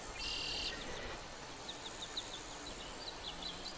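Birds chirping in short repeated morning calls against a steady broadband hiss of outdoor ambience, faint and somewhat distant.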